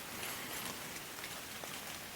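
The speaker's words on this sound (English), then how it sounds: "Windy. It's rainy." Wind and rain outdoors, a dense, even hiss of falling drops with gusty noise, steady and close throughout.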